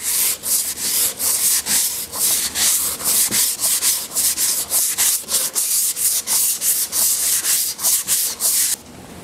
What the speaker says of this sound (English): We're going to sand it right like this.